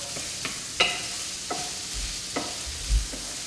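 Chopped yellow onion cooking in a pan, with soft sizzling and a few sharp stirring scrapes and clinks spread through a quiet kitchen, no talking.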